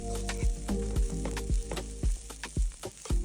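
Fried rice with mixed vegetables is stir-fried for chicken fried rice, producing a steady sizzle with periodic scraping and tossing strokes under background music.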